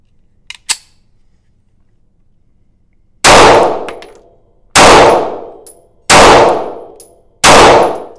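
Four loud shots from a Springfield Armory Hellcat pistol ring out at steady intervals, each a sharp crack with a metallic ring, following a few quiet clicks and a short silence.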